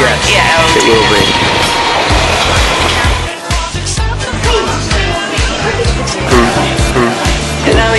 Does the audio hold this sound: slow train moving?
yes